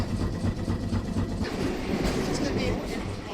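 A Christchurch city tour tram runs on its rails with a steady low rumble and rhythmic clickety-clack, close and continuous, with faint talk in the background.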